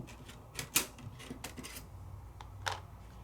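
Die cutting machine pressing a pinking die through paper, a few sharp clicks and crunches spaced irregularly over a quiet background, heard up close.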